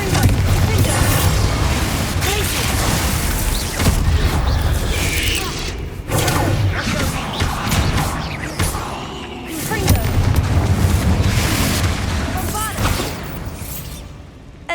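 The Bombarda spell in Hogwarts Legacy sets off a heavy, rumbling blast inside a tomb, followed by crumbling debris and mechanisms under game music, with a voice speaking over it.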